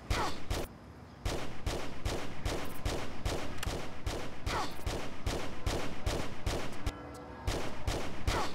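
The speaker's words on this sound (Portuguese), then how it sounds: "O Larson errando os tiros pra mim é tudo, velho" Rapid video-game gunfire in Tomb Raider 5 rattles on almost nonstop as dense bursts of shots, loud and close, with only short pauses between volleys.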